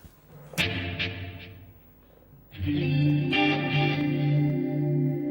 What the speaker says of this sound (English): we're going to dial in some chorus and a bit of reverb.